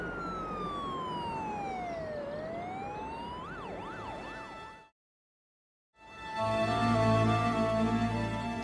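A loud ambulance siren wails, sweeping up and down, then switches to a fast yelp, cuts to silence, and returns with a steady two-tone blare.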